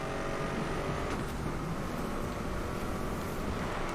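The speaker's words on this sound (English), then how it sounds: "The cement truck that sounds like shit." A cement truck engine in the racing game Need for Speed Most Wanted drones steadily and loudly with a rough, constant roar, alone and without talk.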